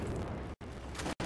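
Explosions in a shooter video game roar as dense, rumbling bursts, loud and continuous, broken by two abrupt silent cuts.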